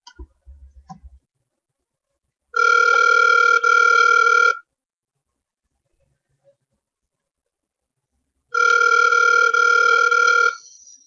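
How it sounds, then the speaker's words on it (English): Telephone call being placed: a few quick clicks, then two loud, steady ringback tones of about two seconds each with long silent gaps between them in a quiet room. "Let me get him on the phone."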